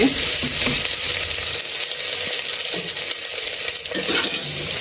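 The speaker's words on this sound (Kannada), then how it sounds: "ಈ ಥರ ಫುಲ್ ಹುರ್ಕೊಂಡ್ಮೇಲೆ ಅದು ಅನ್ನಕ್ಕೆಲ್ಲ ಚೆನ್ನಾಗಿರುತ್ತೆ ಮೊಟ್ಟೆ ಫ್ರೈ" Eggs sizzle and crackle as they fry in a pan for a palak egg biryani, a steady close-up hiss with a few light clinks of a utensil against the pan and no talking.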